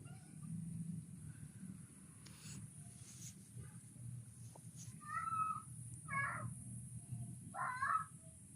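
A cat meows three times in quick succession near the end, fairly close, over a low steady background rumble outdoors while shrimp are being gathered for a meal.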